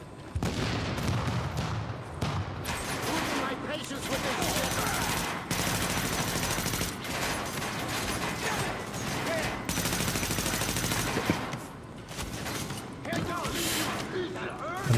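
Near-constant gunfire from the shooter The Division, dense rapid automatic bursts with short gaps, mixed with game effects and intermittent talk.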